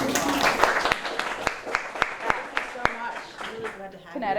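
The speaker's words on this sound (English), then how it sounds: "let's throw a round of applause" A live workshop audience gives a round of applause, dense overlapping claps at full volume throughout, with a voice speaking over the clapping.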